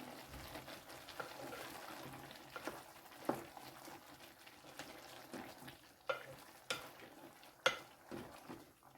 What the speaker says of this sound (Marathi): थोडेसे तीळ घालूया एक चमचाभर आणि मिक्स करून घेऊया